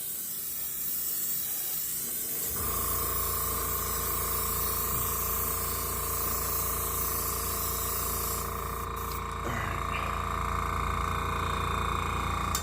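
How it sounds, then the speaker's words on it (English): Airbrush being cleaned after painting in a garage during a '68 Dodge Dart restoration, a continuous close airy hiss of spraying air that shifts in pitch partway through, with no talking. "let me clean up that airbrush"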